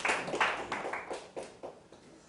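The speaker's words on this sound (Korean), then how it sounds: "박 교수님 나오시면 박수로 맞이해 주시기 바랍니다" Audience applause at the ITMC 2019 conference welcoming a professor to the stage: a short, dense burst of clapping that thins into a few scattered claps within about two seconds.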